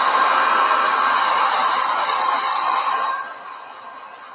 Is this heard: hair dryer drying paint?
yes